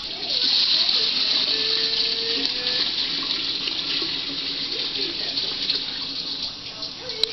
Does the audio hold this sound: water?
yes